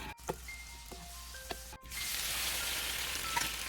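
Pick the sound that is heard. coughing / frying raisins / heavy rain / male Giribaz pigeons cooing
frying raisins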